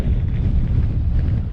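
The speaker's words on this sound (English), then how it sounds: "Really windy" Strong wind buffets and roars loudly across the microphone in a continuous rumbling gust on a hilltop in the Yorkshire Dales, with no voices.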